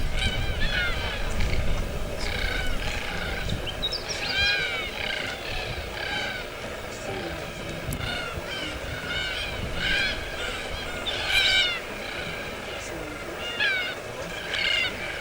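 A huge flock of red-tailed black cockatoos in Cape York, Australia, calling together, with many harsh, grating screeches overlapping from near and far throughout over a low background rumble.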